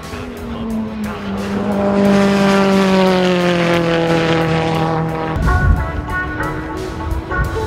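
A race car with a 3SG 2-litre turbo engine screams past loud and close, its pitch climbing and then dropping sharply as it passes, followed by a lower, rougher engine note.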